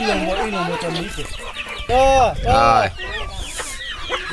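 Hill chickens cluck and call close by in a village, with a loud drawn-out squawk in the middle and people talking underneath.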